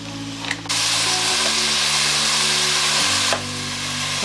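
Onions frying in a pot as the base for a stew, a steady broadband sizzle that runs throughout, with a low hum from the stove or kitchen beneath and brief clatters near the start and end.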